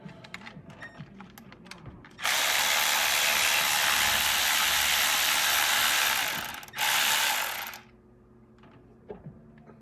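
A ratchet backs a nut off a stud on a Toyota Celica RA29 20R engine during a water pump job, heard as a loud, dense, continuous ratcheting burr for several seconds, one short pause, then a second burst, with faint clicks around it.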